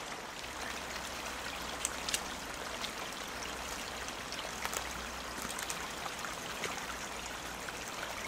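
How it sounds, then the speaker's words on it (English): Water flows steadily along a creek bed at the wettest part of the site, a soft, constant trickling and babbling that carries on without a break. No voices can be heard over it. "Currently there's water flowing"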